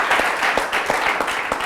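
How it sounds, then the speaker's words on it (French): An audience at a question-and-answer event with a US embassy official in Côte d'Ivoire applauds, brisk overlapping clapping lasting under two seconds, fairly loud and close. "Ah, ben ça s'applaudit, Tchaoué."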